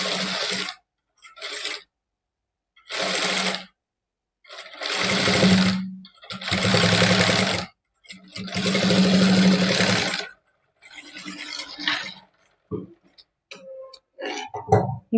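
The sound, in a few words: sewing machine top stitching a princess cut blouse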